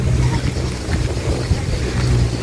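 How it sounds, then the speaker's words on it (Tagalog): Strong, cool wind blows steadily at a high vantage point in Batangas, a continuous roaring rush with low buffeting gusts against the microphone and no speech. "malamig ang simoy ng hangin"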